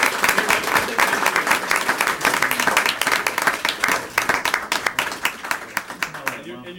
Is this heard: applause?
yes